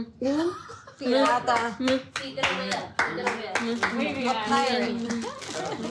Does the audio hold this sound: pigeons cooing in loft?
no